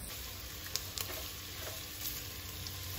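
Steady crackling sizzle of long-sliced onions frying in a hot pan for biryani, continuous and close, with a faint high whine above it and no talking.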